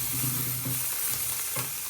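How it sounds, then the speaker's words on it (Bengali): Boiled cabbage leaves fry in hot oil and sizzle steadily, with a few soft stirring scrapes underneath and no speech. "এখন এই যে তেলে নিয়ে তেলে ভেজে নিতে আসছি"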